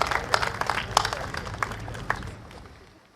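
An audience at a political campaign rally in Singapore applauds after a speech, a burst of scattered, fairly close clapping that thins out and fades over a few seconds.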